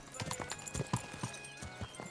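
Horse hooves clip-clopping at a trot in Kingdom Come: Deliverance II, a steady run of close, distinct hoofbeats with a brief whinny, under light game ambience with some faint talk.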